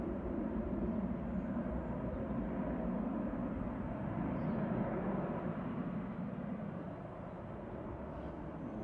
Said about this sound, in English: Now be quick because EasyJet's on short final behind it.